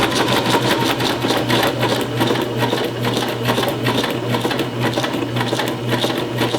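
A sewing machine stitches fabric in a steady, rapid mechanical patter that runs close and loud without a break, with no one speaking over it.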